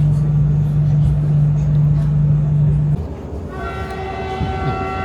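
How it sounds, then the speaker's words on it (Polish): Koleje Śląskie passenger train running near Sosnowiec on a line under reconstruction, heard from inside the carriage: a steady loud rolling rumble with a sustained low tone that drops away partway, then bright whistling tonal lines rise over the rumble. "Przeniosłem się w inną część pociągu, bo tu jest znacznie ciszej."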